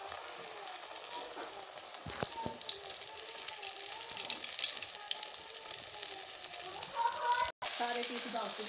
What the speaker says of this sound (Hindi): ये घी है हमारा फुल गर्म हो चुका है। अब हम इसमें डालेंगे अपने ये फिश के पीस